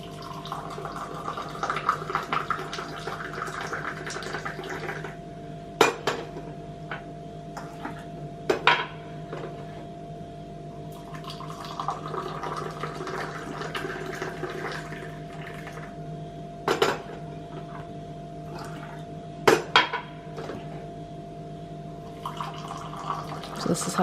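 Moroccan mint tea mixed without a spoon, with sugar worked in by pouring between pot and glasses: repeated sharp glass and metal clinks over a steady low hum, with faint liquid splashing throughout.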